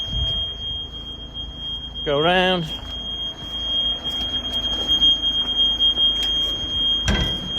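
A 2018 Peugeot Boxer 2.0 BlueHDI tipper truck, with its tipper raised, gives a steady, high, continuous warning beep that runs through the whole stretch while someone talks nearby.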